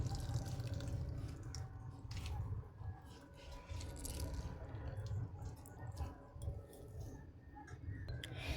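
Soaked sago is squeezed by hand to press the water out, giving faint wet squelches and quiet irregular drips falling close by, with a low background hum throughout.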